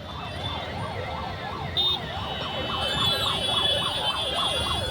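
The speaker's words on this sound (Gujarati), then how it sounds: "ટ્રાફિક જામમાં ચાર ચાર એમ્બ્યુલન્સ ફસાઈ ગઈ" Four ambulance sirens wail together in rising and falling sweeps over the rumble of stalled traffic in a flood-hit Ahmedabad–Vadodara traffic jam, fairly close and continuous.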